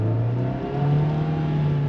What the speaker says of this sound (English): once I give it gas, look at it